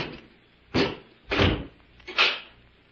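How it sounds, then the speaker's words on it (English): A door being closed and bolted in a vintage radio drama, three separate heavy thuds and clunks spaced about a second apart, loud and close with no talk. "close the door and bolt it."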